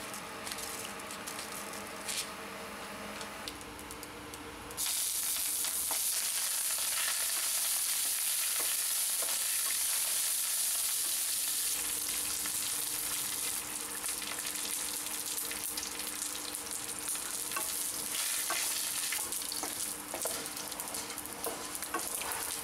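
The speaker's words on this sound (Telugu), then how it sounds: "ఇప్పుడు స్టవ్ మీద ప్యాన్ పెట్టి తగినంత ఆయిల్ వేసి ఆవాలు జీలకర్ర కరివేపాకు ఎండిమిర్చి వేసి తాలింపు పెట్టుకోండి" Mustard seeds, cumin, curry leaves and dry red chillies temper in hot oil in a pan on the stove, a loud continuous sizzle and spatter that surges sharply after a few seconds, close up with no talking.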